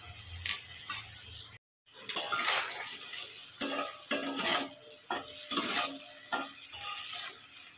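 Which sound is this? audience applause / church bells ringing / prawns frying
prawns frying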